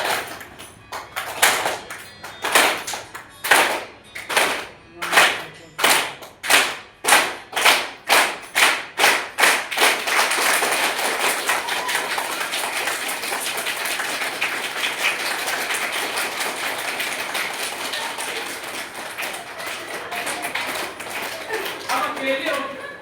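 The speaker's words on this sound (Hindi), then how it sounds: "अब मार ताली मारना है केवल" A group clapping in unison during a rhythm exercise at a training session, starting with slow, loud, evenly spaced claps that speed up and then dissolve into continuous applause.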